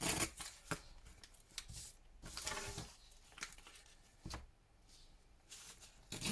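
Paper being torn by hand for a scrapbook lap book collage, a series of short ripping bursts with pauses between, close and quiet.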